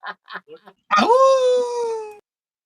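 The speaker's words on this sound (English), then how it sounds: "You got the dogs whining again." Dogs whine indoors in one sustained, rising then steady high-pitched cry lasting about a second, after a few short bursts of nearby speech.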